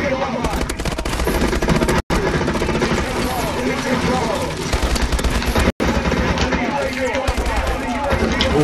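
In the Call of Duty Advanced Warfare video game, an automated turret fires nonstop, loud bursts of automatic gunfire that barely break for eight seconds, with excited players talking over it.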